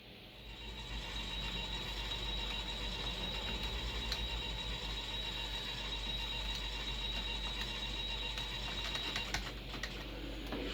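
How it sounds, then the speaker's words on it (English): An arcade machine mechanism, the Loch Ness Machine, grinds and winds upward along a pole, a continuous close mechanical whir with rapid ratcheting clicks and a steady high whine running throughout, no talk. "I see you winding and grinding up on the pole."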